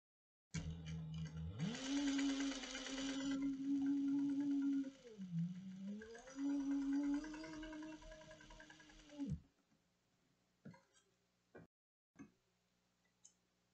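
Sewing machine top stitching a cross-body sling bag, running in one steady mechanical whir for about nine seconds with a brief dip midway, followed by a few faint clicks and taps.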